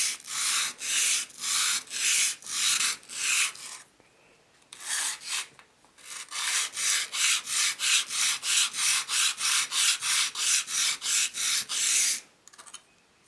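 The iron of an E. C. Stearns & Co. No. 13 hand plane is rubbed flat on an abrasive, a loud, close, steady back-and-forth scraping in rhythmic strokes, pausing briefly partway and then resuming at a quicker pace.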